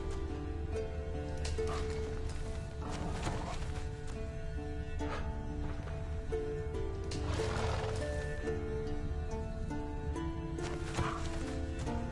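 A horse whinnies intermittently in The Witcher video game, faint and mixed into a dense bed of ambient music and environmental sound, with occasional hoof and movement noises.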